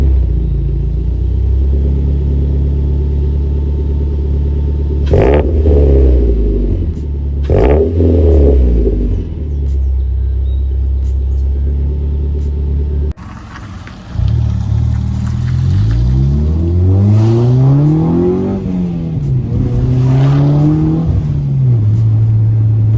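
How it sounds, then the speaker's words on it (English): A 2010 Mazda 3 with the 2.5L engine and a Corksport short ram intake revs through its exhaust, loud and close. Two short blips come first, then a longer series of rising and falling revs over a deep idle rumble. "now we're just gonna make a sound test from the exhaust"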